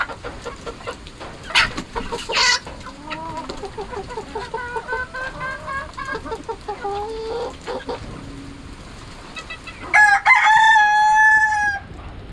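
Darag native chickens clucking and calling across a farmyard, with a rooster's loud, close crow rising near the end above the flock's scattered cackles.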